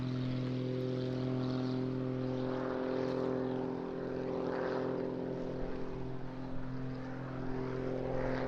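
Pitts S2S-based aerobatic propeller aircraft flying at the Eastbourne International Airshow, a steady droning engine and propeller tone heard from a distance, holding fairly even with slight swells as it passes.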